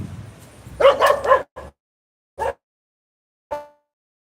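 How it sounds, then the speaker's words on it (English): A dog barks sharply right beside the listener on a street in Alcalá, Envigado, Colombia, a quick burst of several loud woofs followed by a few single barks spaced out after pauses. "doggy barked in my ear"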